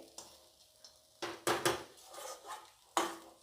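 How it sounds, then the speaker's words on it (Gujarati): Spoon stirring Gujarati batata poha in a pan to mix in sugar and lemon, with several distinct scraping knocks against the metal, close and fairly quiet with gaps between strokes. "અને સરખી રીતે આપણે હલાવી લઈશું, જેથી ખાંડ અને લીંબુ ભળી જાય."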